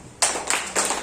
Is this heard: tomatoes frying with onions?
no